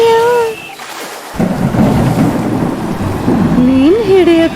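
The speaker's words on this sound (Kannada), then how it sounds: "ಏನಿದು ಎಷ್ಟು ಬೇಗ ಮಳೆ ಬರ್ತಿದೆ?" Rain and thunder in a cartoon: a heavy rumble rolls in, followed by a steady, loud rain wash with melodic tones rising over it.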